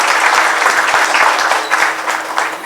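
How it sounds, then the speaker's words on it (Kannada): Steady, dense applause from an audience opening a foundation day celebration of an environmental society, sustained and fairly loud throughout with no speech over it. "ಪ್ರೀತಿಯ ಚಪ್ಪಾಳೆಯ ಜೊತೆಗೆ ಈ ವೇದಿಕೆಯನ್ನು ಆರಂಭ ಮಾಡುವ"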